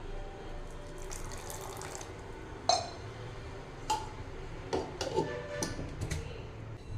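Water is poured into a mixer-grinder jar holding chutney, a soft running trickle broken by small clinks and taps against the jar, close and moderately quiet, with no talking.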